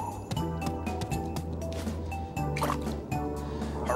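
Watering crops in the farming video game Harvest Moon: Animal Parade produces a steady run of soft, quick drip and splash effects, close and fairly quiet, over a looping background tune.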